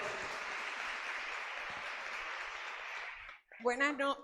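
Church audience applauding a couple invited to the microphone at a religious gathering, a steady broadband wash of clapping for over three seconds that cuts off abruptly, followed by a voice beginning to speak.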